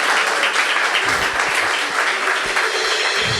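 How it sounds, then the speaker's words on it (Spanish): A church congregation bursts into sustained applause during a Sunday service, a loud, even wash of many hands clapping together without pause and no talk over it. "Dale ese aplauso al Señor en este día."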